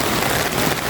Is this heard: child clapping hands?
no